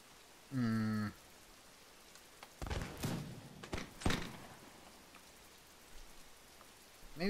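Rain falling in Mount & Blade, a faint continuous hiss of drops throughout, with a short tonal blip early and a few louder thuds and cracks in the middle.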